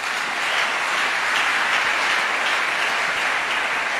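A church congregation applauds to acclaim Jesus during a sermon, a steady, even roar of many hands clapping together, sustained without pause from start to finish.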